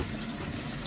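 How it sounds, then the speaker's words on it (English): Water runs steadily as it drains down a sink during a plumbing test, an even, close rushing wash with no pauses or speech. "I can hear it draining."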